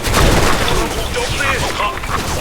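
Loud, rapid gunfire in the video game Special Force 2 rattles in quick succession for a couple of seconds, dense and close, with a voice faintly underneath.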